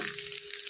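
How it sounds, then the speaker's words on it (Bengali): Chopped garlic frying in hot oil, a steady close hiss and sizzle throughout a brief moment. "রসুনটা একটু লাল লাল করে ভাজতে হবে"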